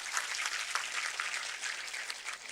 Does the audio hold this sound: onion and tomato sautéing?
no